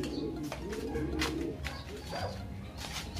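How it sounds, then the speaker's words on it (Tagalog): Pigeons coo repeatedly in a low, throaty rhythm, close and continuous, with soft bird chirps and rustling mixed in; no one talks. "Ito mga kalapatids, kunin na natin yung isa."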